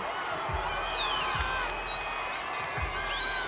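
A cricket stadium crowd in South Africa cheers and whistles steadily after a wicket against the West Indies under lights, with a dense roar, shrill whistles and a few thumps, and no clear speech.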